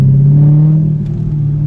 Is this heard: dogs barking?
no